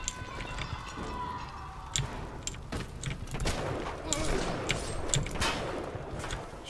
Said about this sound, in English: Shotgun's kind of trashy.